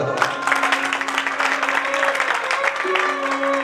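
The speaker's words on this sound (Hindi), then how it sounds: "एक बार इसके लिए तालियां बजा दो" Audience applause after a Marwari bhajan at a Shri Shyam Mitra Mandal devotional gathering, steady dense clapping from a crowd with a sustained musical tone running beneath it.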